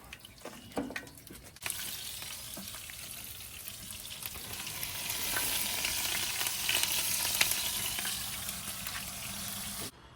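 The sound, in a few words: breaded fish frying in oil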